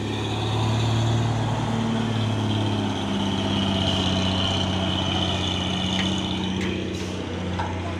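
A truck engine idles with a steady low rumble and a constant hum, loud and close, holding evenly throughout with no talking.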